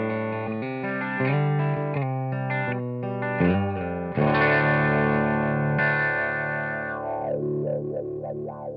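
Electric guitar played through a Made in Japan Vox V847-C wah pedal into a Tomkins custom clean amp, with sustained chords that give way to sweeping wah vowel swells near the end, loud and continuous with no talking.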